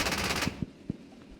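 A Marder A1 infantry fighting vehicle's Mk 20 autocannon in a video game fires a fast, loud, rattling burst, which then gives way to a few separate thuds and faint distant impacts.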